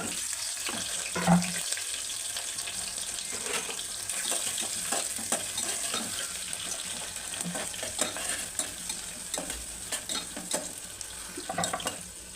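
Onions and green chillies frying for biryani with whole spices like cinnamon, cardamom and cloves, a steady soft sizzle broken by repeated scraping stir strokes and faint watery sounds in the background.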